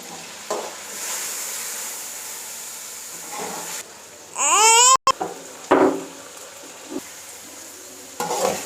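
Chicken and radish frying in ghee in a pan, a steady close sizzle with stirring scrapes and a brief burst of louder spitting midway, no talk over it.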